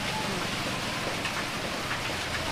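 Steady rain falls nonstop outdoors in the Mekong Delta region of Vietnam, a dense, even hiss of drops pattering on surfaces, moderately loud, with no voices.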